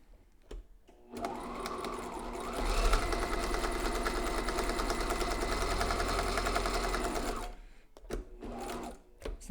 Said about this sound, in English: So that was just to sew the mask shut with my pipe cleaner in it.